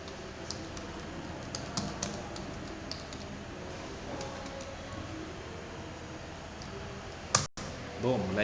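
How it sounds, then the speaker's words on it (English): Someone types a password on a computer keyboard while signing in to an account: quick, light key clicks come in irregular bursts, close and fairly quiet, over a low steady room hum. "So I am going to enter my password."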